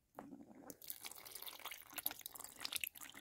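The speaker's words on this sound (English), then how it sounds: "I'll top up the water while we're in there." Water is topped up in a spider's enclosure: soft trickling and a few light drips, close but quiet, after a brief near-silence at the start.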